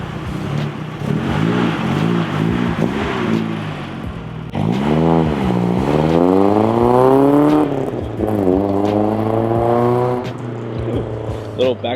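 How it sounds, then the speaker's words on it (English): Car with a ZSS Racing aftermarket exhaust revving in repeated rising and falling pulls, loud and close, with a few sharp backfire pops; voices talk and call out over the engine. "Little backfire and everything."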